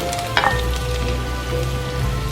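Ginger hits a hot frying pan for a vegetarian mushroom cutlet, letting out a soft, steady sizzle with a brief crackle near the start.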